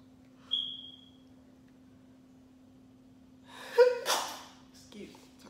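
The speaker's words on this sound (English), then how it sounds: "I feel another sneeze coming out." A single sharp sneeze bursts out near the end after a quiet stretch with a faint steady hum, followed by a short breathy exhale.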